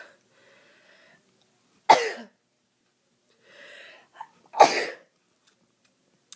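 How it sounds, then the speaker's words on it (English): Two sharp sneezes close by, the first after a quiet breath, the second preceded by a sharp inhale and catch, otherwise near silence. "I have to sneeze again"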